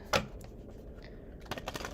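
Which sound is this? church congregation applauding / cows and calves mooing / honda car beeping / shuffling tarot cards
shuffling tarot cards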